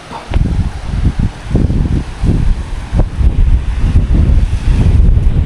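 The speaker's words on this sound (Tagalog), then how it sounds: "Dagat." Steady roar of wind buffeting the microphone with sea waves washing in the background behind a cemetery, loud and continuous.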